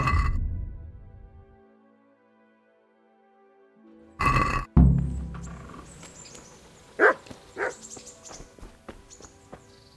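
Dogs barking in the medieval video game Kingdom Come Deliverance, a few scattered, faint barks and yips mixed with game sounds after a quiet stretch, fairly distant and irregular.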